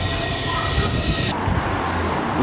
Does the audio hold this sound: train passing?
yes